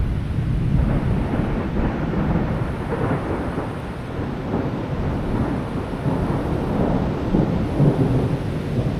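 Heavy rain and rolling thunder fill a West Virginia thunderstorm, low rumbles swelling and fading beneath a constant loud roar of rainfall and wind buffeting.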